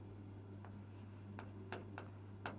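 Faint writing on a classroom board during a math lesson, a few soft scratchy strokes spaced out over a steady low hum.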